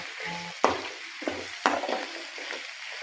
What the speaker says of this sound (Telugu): ఈ ఆయిల్లో ఇదంతా కలిసేలాగా బాగా తిప్పుకోవాలి